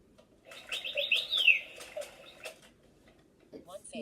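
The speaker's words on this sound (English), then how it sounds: "It's a bird." A small bird chirps in a short burst of quick tweets up close, with faint wing flutters and soft room noise, fading into quiet near the end.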